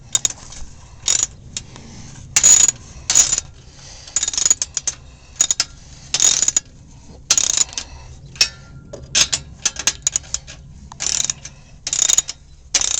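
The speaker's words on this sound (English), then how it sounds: "And then you get your ratchet that fits. I got a depot socket this time." A ratchet fitted with a deep socket tightens bolts on a truck part, giving bursts of quick, crisp metallic clicking in uneven short strokes with brief pauses between them, close and loud without speech.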